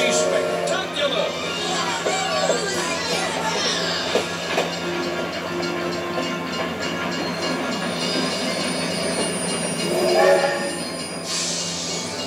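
A cartoon freight train rolls steadily along with a continuous metallic rumble, faint wheel squeals and clatter, mixed with background music-like tones throughout.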